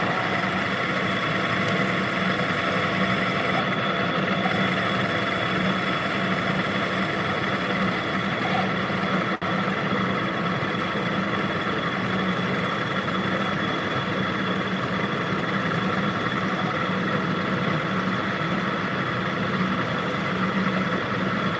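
An engine-driven welder's engine idling: a steady, unbroken low mechanical drone with a constant hum, no change in pitch throughout.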